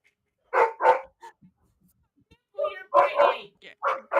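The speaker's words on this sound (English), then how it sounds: "Now we started barking." Dogs bark in short bursts: a pair of quick barks, a pause, then a cluster of closer, louder barks and yips.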